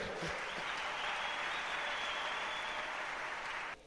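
A congregation at a church service applauds in a steady, dense wash of clapping that holds evenly for several seconds and then cuts off sharply.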